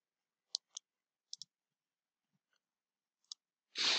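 Sharp computer mouse clicks come in small pairs and singles, crisp and close, separated by silence, with a brief rustle of movement at the end.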